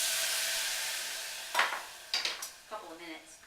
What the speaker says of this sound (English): you don't need to simmer fry your raw vegetables very long